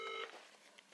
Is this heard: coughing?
no